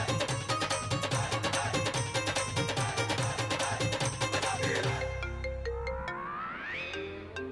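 A mobile phone ringtone plays loud and continuous as a repeating bright electronic melody, then a short closing tone with a rising swoop as it stops.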